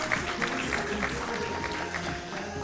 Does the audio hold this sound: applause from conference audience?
yes